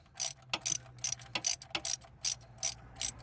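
Socket wrench ratcheting on the oil drain bolt of a 1997 BMW Z3 1.9L, about a dozen quick, crisp clicking bursts in an uneven rhythm, close and fairly loud, with no talking.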